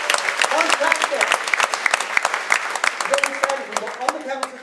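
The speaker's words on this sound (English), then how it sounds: "Give him a round of applause to go back to the audience." An audience at a mentalism stage show claps in a burst of dense, close applause that swells and tapers, with some voices mixed into the crowd noise.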